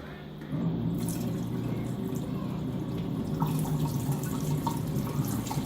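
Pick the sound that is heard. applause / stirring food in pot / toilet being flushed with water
toilet being flushed with water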